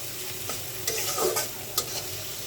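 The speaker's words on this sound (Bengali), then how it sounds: "পেঁয়াজ দিয়ে দিলাম পেঁয়াজের পরিমাণটা একটু বেশি দিলাম এখন ভালোভাবে নাড়াচাড়া করে নিচ্ছি" Chopped onions and garlic fry in a pan for an okra and lentil dish, giving a steady moderate sizzle with a few sharp scraping stirs, close by, with no voices.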